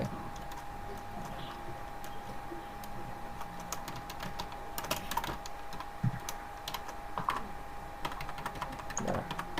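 Keys clatter on a computer keyboard as an HTML title tag is typed during a web design class, with quick, irregular clicks and a few louder taps over a low steady hum.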